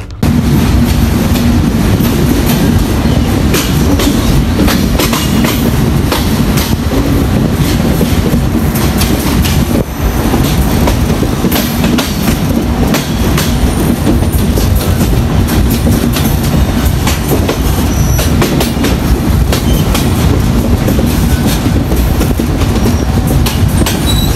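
Passenger train running from Benapole to Dhaka Kamalapur, heard from inside: a loud, steady rumble with rhythmic clickety-clack of wheels over rail joints and occasional squeals, continuous throughout.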